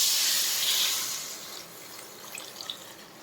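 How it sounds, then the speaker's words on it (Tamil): Half a litre of water pours steadily into a sambar cooking pot with a bright rushing hiss, then tapers off into a few faint drips and splashes. "ஒரு 1/2 லிட்டர் தண்ணி ஊற்றிக்கலாம்."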